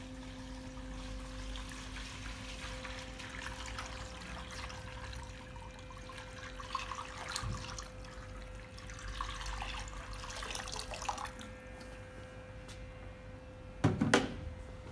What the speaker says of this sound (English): for simplicity today, I've just got a 5 litre container of water. So we're just going to add that